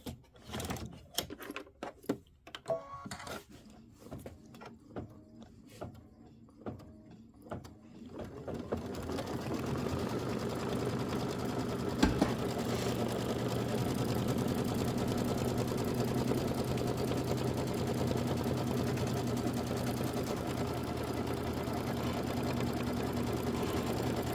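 An embroidery machine stitches a background tack-down outline on a Kimberbell Thanksgiving pillow, opening with sparse clicks and taps before settling into a continuous fast mechanical stitching whir that runs steadily to the end.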